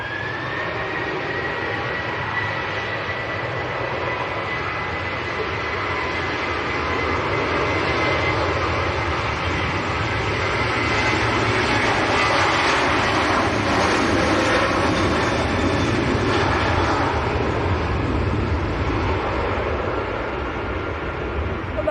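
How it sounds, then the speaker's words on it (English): KLM Boeing 737-700 jet taking off full length at Manchester Airport for Amsterdam on a windy day, a steady engine roar building to a louder peak before easing slightly, continuous and alone. "KLM is about to roll, going full length for 737 to Amsterdam"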